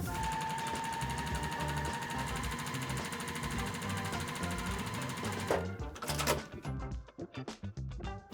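A sewing machine stitches a quilt block seam, a steady continuous mechanical whir running for several seconds before stopping, leaving a few scattered handling clicks and knocks.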